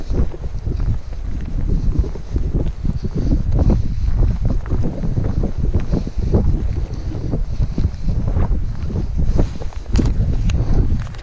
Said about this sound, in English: A bit windy here.